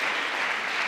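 A brief burst of audience applause, a dense, even patter of clapping hands.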